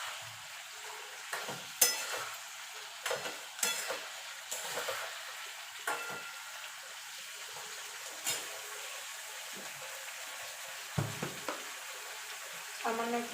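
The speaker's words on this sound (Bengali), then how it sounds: "বড়াটা দিয়ে ভালো করে নাড়াচাড়া করে নেব।" Fried lentil dumplings stirred into moong posto in a pan: a quiet soft simmer broken by a series of sharp spoon scrapes and clinks at irregular intervals, close and alone.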